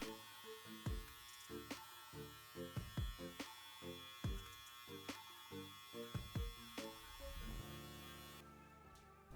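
Electric hair clippers cutting hair during a home self-cut fade, lever set at three quarters; a steady buzzing hum runs close throughout, broken by repeated short passes through the hair.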